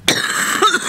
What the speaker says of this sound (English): I'm coughing, as you could see.